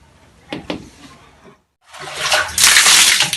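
Someone bathing: a couple of sharp splashes of scooped water, a brief silence, then a longer, louder rush of poured water sloshing and splattering close by.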